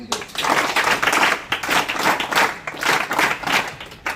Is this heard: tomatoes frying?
no